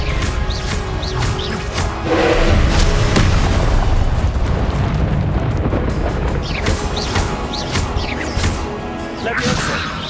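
Confringo spells burst in Hogwarts Legacy combat, making loud booming explosions and crashing impacts with whooshing casts, repeating across a dense, busy stretch.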